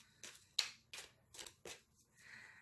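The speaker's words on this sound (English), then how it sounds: "I'm gonna do a couple of shuffles" A deck of cards being shuffled several times at a tarot-style reading, five or six crisp riffling bursts in an irregular rhythm, close and fairly quiet, with no talk.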